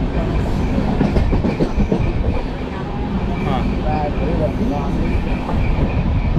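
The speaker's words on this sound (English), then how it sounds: "This train goes pretty fast." A fast train in India rattling steadily along the rails, a continuous loud clatter of wheels with faint squeals, heard from on board; people talk briefly over the noise.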